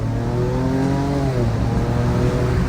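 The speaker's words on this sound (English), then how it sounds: "So we're going to accelerate now up to" Ford Ranger Raptor pickup accelerating on the road, a steady engine drone rising in pitch through the gears with a loud, continuous cabin hum and no talk.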